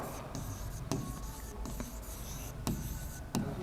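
Marker or chalk writing on a classroom board, a steady scratchy stroking with a few sharper taps between strokes, close and continuous over a quiet room.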